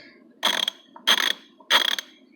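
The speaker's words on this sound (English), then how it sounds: "And I really like the 1/2-inch because these are all 90-tooth ratchets." A 1/2-inch 90-tooth ratchet clicking in three short fine-toothed bursts, each a rapid run of tiny clicks, with brief quiet pauses and one soft click between them, close up and with no talking.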